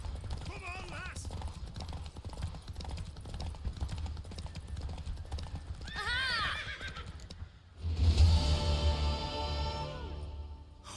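Horses in the video game The Witcher 3 whinny and neigh over rapid clip-clop hoofbeats during a race, with speech in parts and a loud whinny near the end.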